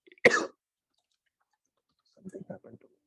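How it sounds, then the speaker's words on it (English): A single sharp cough near the start, followed by a pause and then a short stretch of soft, muffled talking. "I'm getting more cough."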